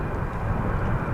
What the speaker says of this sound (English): So this is the plane in question.